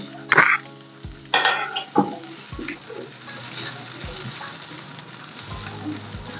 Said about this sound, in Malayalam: ഇത് നന്നായി വാടി വെക്കട്ടോ ഉള്ളിയൊക്കെ നന്നായി വഴന്ന് വന്നിട്ടുണ്ട്